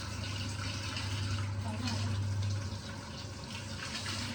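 Steady running hot water flowing from a tap, with a low hum underneath and faint voices in the background.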